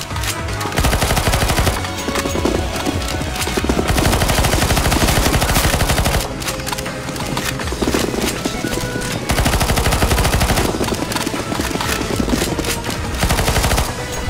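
Dense, continuous automatic gunfire from the CS:GO Zombie Escape game mode, loud and sustained bursts with brief dips, no talking.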